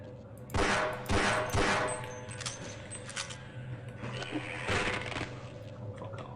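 Pistol firing in the video game Half-Life, several sharp close shots in a quick cluster early on, then more scattered cracks over a low game hum.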